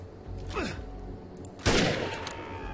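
Gunfire from the video game Defiance: a whooshing sweep is followed about a second later by a loud, sharp shot with a short ringing tail, close and prominent.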